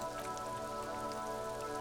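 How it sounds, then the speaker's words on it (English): Steady rain spatters and drips off eternite-covered roofs along a wet urban coastline in Disco Elysium, a close, even patter with a faint tonal hum running beneath it, no voices. "Rain dripping off eternite-covered roofs"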